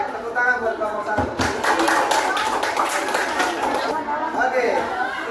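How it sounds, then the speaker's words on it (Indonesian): A school class claps for a student group, a dense burst of applause of scattered hand claps mixed with chatter lasting several seconds. "Baik, tepuk tangan buat kelompok 1."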